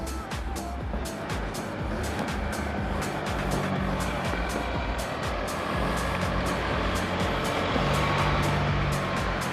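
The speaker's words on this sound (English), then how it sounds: "oh, the car coming up behind us" A car driving up from behind at a holiday park in the snowy mountains near Jindabyne, a low engine rumble growing steadily nearer under a busy outdoor background with sharp intermittent clicks, and no clear talk over it.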